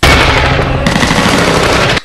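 Loud, dense automatic gunfire from an action film fills the whole stretch, a continuous rattling burst that shifts character partway through and cuts off abruptly at the end.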